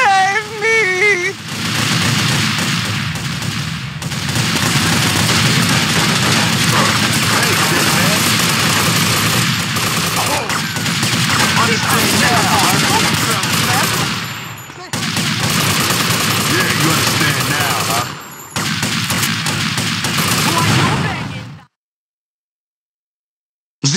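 Sustained automatic gunfire rattles through a shootout in GTA: Vice City Stories, dense rapid bursts with brief pauses over about twenty seconds, mixed with voices, before cutting to silence.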